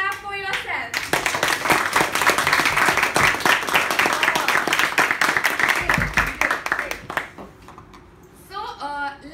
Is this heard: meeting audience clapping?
yes